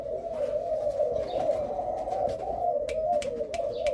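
Caged doves coo continuously in low, rolling calls, several birds overlapping at close range, with faint clicks and rustles behind.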